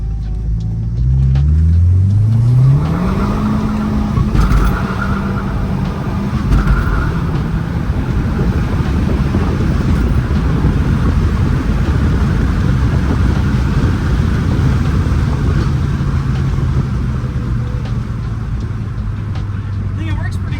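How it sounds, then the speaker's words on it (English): A car performing burnouts at home in Hawaii, its engine roaring and revving loudly and steadily throughout, a rising pitch sweep at the start, with heavy rumble and tyre noise close by. "We drove it, did some burnouts, and now we're gonna go drive it again and do some more burnouts."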